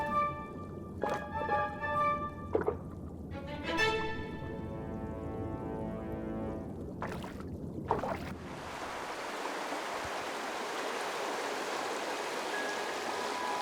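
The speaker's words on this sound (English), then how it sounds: "The water coursing through the Wutach Canyon has travelled from the high Alps and made its way through rock crevices, lakes and streams." Stream water rushing through Wutach Canyon, a steady broadband wash that swells into a dense, continuous roar in the second half, preceded by brief tonal layers and sharp transients.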